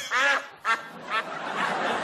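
Three loud, raspy duck quacks ring out close by, followed by a softer, drawn-out quack and some low background murmur.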